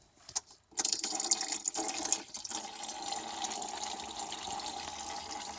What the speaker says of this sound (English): that's how you drain your rad.